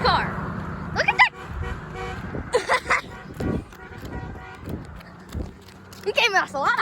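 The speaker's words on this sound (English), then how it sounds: "He gave us a lot of honks." Car horn toots sound in short repeated bursts near a roadway, with a more distant truck horn, mixed with children and adults talking throughout.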